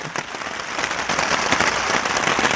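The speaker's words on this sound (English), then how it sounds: "A lot of rain going on, a lot of thunder, a lot of lightning." Heavy rain pours in a dense, crackling patter during a nighttime storm, loud and continuous with no distinct thunder rumble, heard from inside a hammock shelter.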